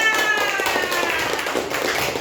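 A room of children and a teacher clap hands together in a dense, steady burst of applause lasting a couple of seconds, fairly loud and close.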